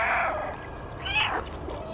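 A cat meows in the video game Stray, two short, faint mewing calls separated by a pause, over a quiet background.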